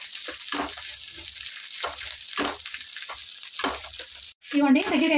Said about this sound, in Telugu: ఇట్లా కలుపుకుంటూ ఫ్రై చేసుకోండి